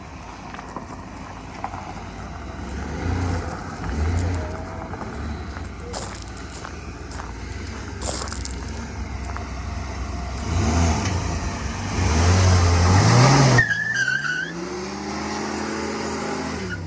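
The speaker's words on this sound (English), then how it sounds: "Do a burnout!" A 1984 Fox Body car that sat for 20 years revs its engine for a burnout nearby, the engine note rising and surging loudly toward the end, with wind noise and no talk.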